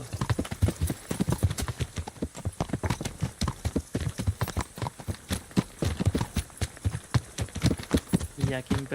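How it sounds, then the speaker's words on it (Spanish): Horse hooves clip-clop steadily in Kingdom Come Deliverance, a soldiers' horse moving at a brisk, rhythmic pace, loud and close, with a person talking over it throughout. "Caballo de los soldados."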